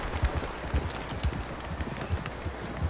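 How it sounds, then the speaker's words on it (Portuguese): Hooves of John Marston's horse clip-clop in Red Dead Redemption 2, a steady trotting rhythm of close, dull thuds across the few seconds with a light outdoor wind bed. "Então esse aí é o cavalo do John Marston."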